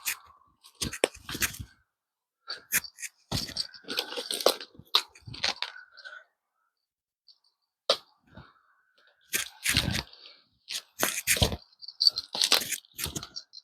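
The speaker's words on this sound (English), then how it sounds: "He's chewing on grass." An animal chews grass up close in a desert area scattered with cactus and small branches, giving irregular bursts of crunchy, tearing bites separated by brief silent pauses, with no talking.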